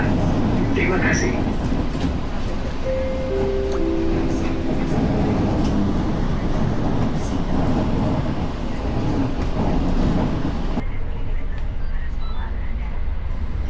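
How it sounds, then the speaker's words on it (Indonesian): A Bangunkarta passenger train pulling into Yogyakarta station rumbles steadily with clattering and mechanical drone throughout, loud and near, as a station announcement and other voices sound over it before the noise drops abruptly near the end. "kereta api Bangunkarta akan tiba dan berhenti di stasiun Yogyakarta"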